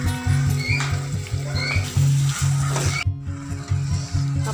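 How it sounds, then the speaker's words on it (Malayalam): Chopped onions sizzling and crackling in a hot pan while being stirred until brown, a steady frying hiss with repeated rhythmic scraping strokes of the spoon, close and fairly loud. "ഇനി ഈ ഉള്ളി നല്ലോണം ബ്രൗൺ കളറാവുന്നത് വരെ നമുക്കിത് ഇളക്കി കൊടുക്കാം"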